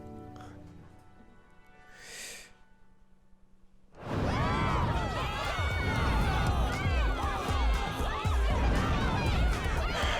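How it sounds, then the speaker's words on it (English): A crowd in the game Danganronpa: Ultra Despair Girls cheers for a giant robot, breaking in suddenly after a quiet musical start as dense, loud, continuous shouting and chatter. "And they are cheering for the giant Monica robot."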